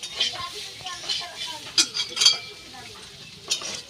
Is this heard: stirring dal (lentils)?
yes